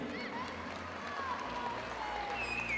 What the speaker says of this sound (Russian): Стесняется Ахмед, но мы его все поддержим аплодисментами.